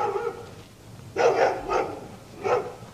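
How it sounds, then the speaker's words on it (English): A dog barks nearby, sending out a few separate sharp barks with short gaps between them over a soft background. "Dog wants to go in the camera, too."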